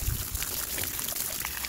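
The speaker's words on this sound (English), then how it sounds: "so I'm just going to hook the hose up into it" Tap water from a garden hose rinses a K&N air filter, giving a continuous close splashing and trickling wash of water with no pauses.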